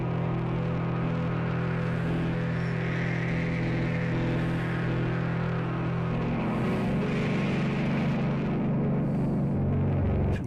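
Musical instrument tone run through a rotary speaker effect, a steady droning hum with swirling motion and slight distortion, continuous and fairly loud throughout with no talk.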